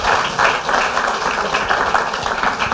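Audience applause at a German presentation event for funded free-knowledge fellowship projects, dense steady clapping from a crowd that holds at full strength for about three seconds.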